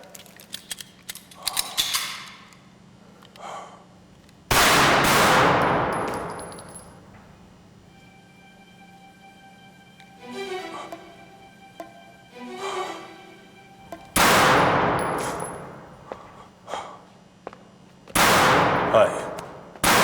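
Gunfire on a firing range in the game Quiet People: a few sharp, loud shots spaced seconds apart, each ringing out with a long decaying tail, interspersed with quieter mechanical clicks and handling noises.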